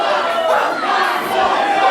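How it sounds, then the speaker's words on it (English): A wrestling crowd roars and shouts in a packed arena, a dense steady wall of cheering and yelling voices with no pauses, close and loud. "Listen to this crowd."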